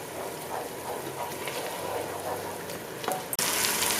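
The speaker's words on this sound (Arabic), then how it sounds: "كنضيفوا الطماطم بعد ما عشرناها، وكنتركوا الكل حتى تيتقلى لينا" Onions and grated tomatoes frying together in a pan for a traditional Moroccan dish, a close, steady sizzle and crackle with a brief clatter near the end.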